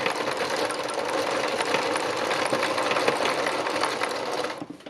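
Sewing machine stitching free machine embroidery on fabric, a steady fast whirring buzz of needle strokes running continuously at close range, then cutting off abruptly near the end.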